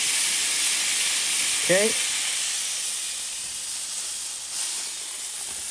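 Smashed burger patty sizzling hard on a Blackstone griddle, a steady loud hiss of frying filling the whole stretch, with a brief spoken word partway through.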